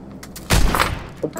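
A single loud gunshot or short burst from PUBG (PlayerUnknown's Battlegrounds), a sharp close blast with a brief boomy tail, standing out against quiet background.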